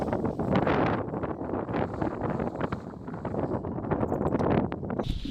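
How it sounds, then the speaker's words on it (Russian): Strong wind at a paraglider launch roars into the microphone, loud and steady with gusting surges and buffeting throughout, no voices. "Но бывает сильный ветер."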